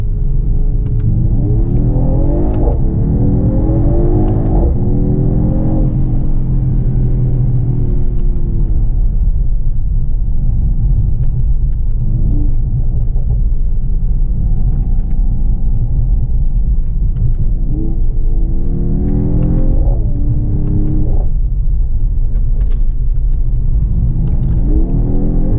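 A 2020 Mercedes-AMG GT53 4-Door Coupe engine rumbles deeply after a downshift into first gear, with several rising revs swelling and falling over a steady low drone.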